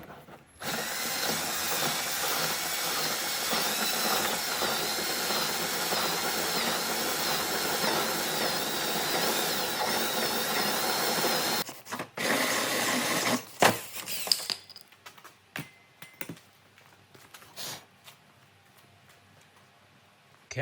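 A power drill cutting slowly through a car body panel during competition car prep, a loud steady whine held for about twelve seconds, then stopping and giving way to short clanks and handling noises.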